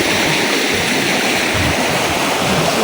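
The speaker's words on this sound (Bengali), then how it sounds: "দেখেন কত পরিমাণ পানি আইতাছে।" Floodwater from a flash flood pours through a jungle toward nearby houses, a loud, steady, unbroken rush of water filling the whole stretch with no voices.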